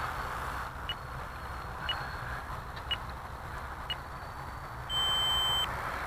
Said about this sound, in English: Alright, there's our timer.